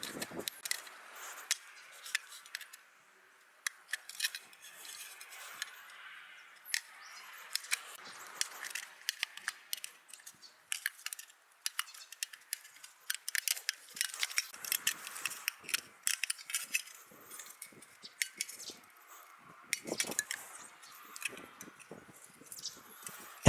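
A Swiss Army knife cuts a large opening in the side of a tin can, giving continuous clicking, scraping and ratcheting metal sounds that run close and steady, with no talking.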